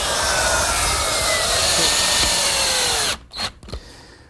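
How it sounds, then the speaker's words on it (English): A woodworking router fitted with a quarter-inch round-over bit shapes wood edges for a library ladder, a loud, steady high whine for about three seconds before it cuts off and winds down, followed by a couple of brief clunks. "Round over the edges, I'm just using a portion of a quarter inch rounding over bit."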